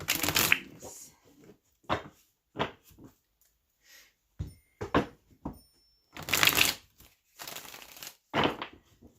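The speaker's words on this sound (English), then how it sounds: "All right, one more shuffle, Pisces." Tarot cards shuffled by hand during a card reading: several quick, crisp riffling bursts separated by short pauses, close and clear with no talking.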